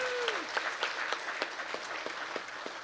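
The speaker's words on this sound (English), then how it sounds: "Let's give them a round of applause." An audience at the Hackaday Prize award ceremony applauds, with steady clapping from a crowd and a few sharper distinct claps standing out, heard at a moderate distance after a voice trails off.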